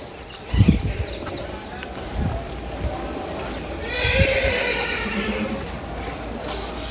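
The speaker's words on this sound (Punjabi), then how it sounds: "ਬਹੁਤ ਹੀ ਪਿਆਰੇ ਪਿਆਰੇ ਘੋੜੇ ਆ ਇੱਧਰ ਵੀ ਖੜੇ ਆਗੇ" Horses kept by Nihang Sikh warriors at the stable of Gurdwara Tibbi Sahib in Behbal village give a clear, drawn-out whinny midway through, with a few hoof knocks earlier. Open-air ambience, with light bird chirps in the background.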